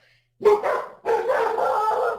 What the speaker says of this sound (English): And my dogs are freaking out.